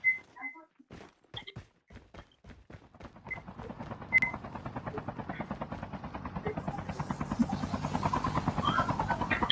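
A helicopter in Call of Duty Mobile starts up with a few sparse rotor thumps that quicken into a steady, rising chop, faint at first and building, with brief game beeps near the start.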